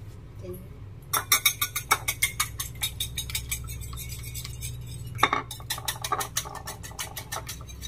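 Eggs are beaten in a bowl with a fork or whisk for cheese honey French toast, a quick run of rhythmic clinking taps against the bowl's side, followed by steadier, softer stirring clatter.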